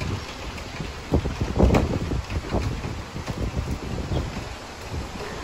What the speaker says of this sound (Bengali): এতটা আমার বাসার সামনে বৃষ্টি হচ্ছিল এবং অনেক বাতাস হচ্ছিল